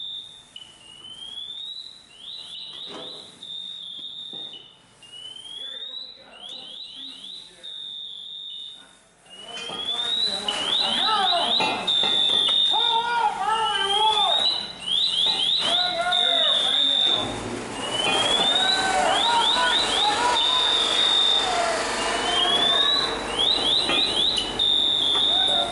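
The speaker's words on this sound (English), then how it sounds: "following the sound of the pass alarm to get to the trapped firefighter" Firefighter PASS alarm on a trapped firefighter during training, repeating rising high-pitched electronic chirps in steady bursts, faint at first then louder and nearer as a voice talks over it amid rustling and movement.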